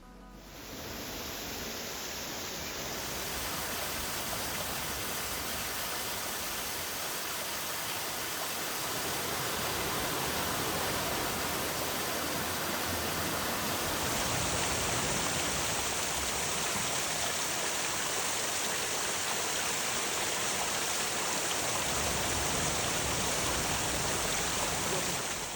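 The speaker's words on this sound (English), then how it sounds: "I even found 2 other waterfalls" Broadband rushing water from a waterfall in a quiet natural setting, a steady close roar that holds for the whole stretch and grows slightly fuller partway through.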